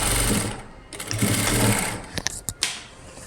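A sewing machine stitches an umbrella gown, running loud and close in steady bursts with short pauses and a few clicks near the end. No talk can be heard.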